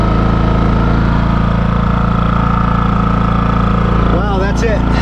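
A Champion 4500 inverter generator runs with eco mode switched off, a loud, steady close-up engine drone with a constant low hum throughout, and a voice briefly heard over it near the end.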